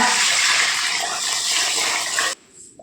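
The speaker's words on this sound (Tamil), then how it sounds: "உளுந்து முங்குற அளவுக்கு தண்ணி சேர்த்துக்கோங்க" Water gushes steadily into a vessel of soaking black urad dal, a loud, even rush close by that cuts off abruptly after about two seconds.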